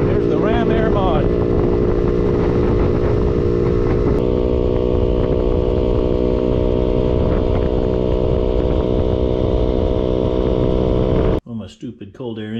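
A Maddog 50cc GY6 scooter engine fitted with a homemade ram air intake runs loud and close with a steady buzzing drone, then cuts off abruptly near the end as a voice speaks.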